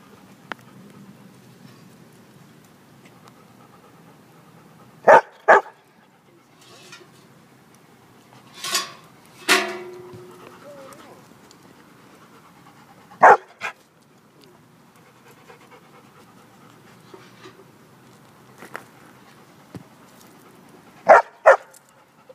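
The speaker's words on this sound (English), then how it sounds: "Double bark. Double bark." Dog asking for help with a tennis ball stuck in a bucket, giving sharp paired barks spaced several seconds apart, with quiet panting and faint rattling between them.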